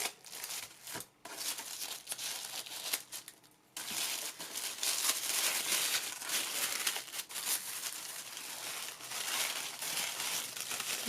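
Paper wrapping torn and crumpled while unboxing a luxury-version item, close and loud crinkling and rustling in bursts with a brief pause, no voices.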